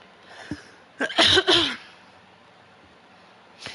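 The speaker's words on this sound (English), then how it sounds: "I do have a bit of a cough, which doesn't feel great" A few harsh coughs from one nearby person come as a tight cluster of bursts after a short faint breath, then quiet room tone and a last soft cough at the end.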